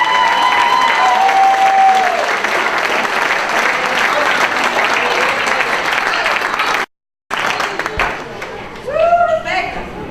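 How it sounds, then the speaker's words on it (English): An audience at a Georgia BBQ championship banquet breaks into loud, sustained applause with cheering. The sound cuts out abruptly for a moment, then the clapping returns with a few whoops. "Round of applause."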